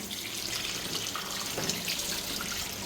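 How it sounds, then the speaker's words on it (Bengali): Dragon fruit is rinsed under a running kitchen tap, giving a steady close hiss of flowing water with faint splashes over the fruit throughout, and no one speaks. "আগে ড্রাগন ফ্রুটসটা ধুয়ে নাও।"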